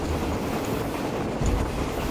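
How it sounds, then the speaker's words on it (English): A moving train on a Malaysian action-film set, recorded from on top of the carriages, gives a steady, loud rumble mixed with rushing wind noise throughout, with no talking. "atas kereta api yang sedang bergerak."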